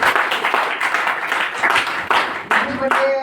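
Audience at a Gurudev Seva Mandal commemoration gathering applauds after a speech, loud close clapping from many hands in uneven bursts, ending with a brief tonal squeal.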